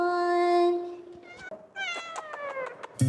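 A house cat meows in a condo, several drawn-out, tonal meows in quick succession, fairly close and clear, with a brief bump of handling noise at the end.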